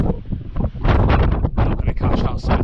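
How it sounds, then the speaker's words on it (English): Strong, cold mountain wind near Llanfairfechan, Wales buffets the microphone in loud, rumbling gusts, with a voice talking over it. "Very windy and cold"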